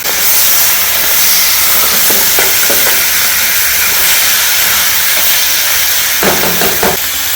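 Meat dropped into a hot pan of fried onions with rock salt, giving a loud, steady sizzle and hiss that runs throughout, with a few brief crackling bursts.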